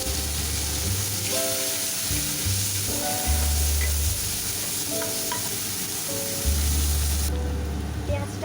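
Chopped onion and slit green chillies frying in hot oil in a pan, a steady close sizzle with bursts of stirring and scraping, occasional low rumbling knocks, no talk.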